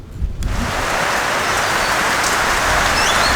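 Heavy rain pours down in a loud, dense, continuous hiss that swells in the first half second and then holds steady.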